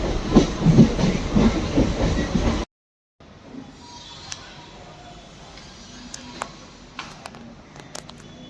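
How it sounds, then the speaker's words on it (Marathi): Train rolling near Thane station in Mumbai: a loud rumbling, clattering passage for a few seconds that cuts off abruptly, followed by quieter station ambience with occasional faint clicks and hiss. "इथून आता ट्रेनचा प्रवास असेल."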